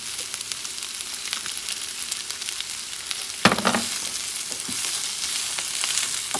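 Shrimp pancit bihon fries in a pan, a steady close sizzle interrupted midway by a sudden louder burst of sizzling and clatter as ingredients are moved, then settling into continuous frying.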